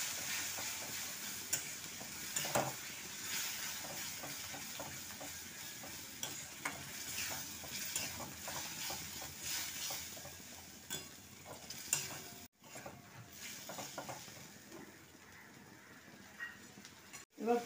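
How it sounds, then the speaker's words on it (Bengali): Tomato and coriander leaf paste frying in a pan while being stirred, a faint close sizzle with scraping stirs and occasional clinks. "এবার টমেটো আর ধনে পাতার যে পেস্টটা করেছিলাম সেটা দিয়ে দিলাম।"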